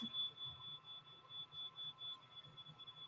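A house fire alarm rings as a steady, thin high-pitched electronic tone, faint and somewhat distant over low background rumble, without any talk.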